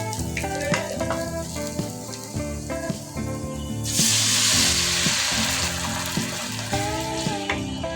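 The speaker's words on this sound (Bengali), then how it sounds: "এবার এর মধ্যে একটু পানি দিয়ে দিব।" Lightly fried onions sizzle in mustard oil in a pan, then a splash of water hits the pan midway and flares into a loud hissing surge before settling back to a sizzle, with music playing underneath.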